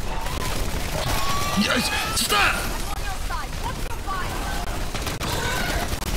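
Gunfire from a zombie-shooting session in the video game Modern Warfare 3 Zombies, dense bursts of shots mixed with game effects, running steadily under excited shouting voices.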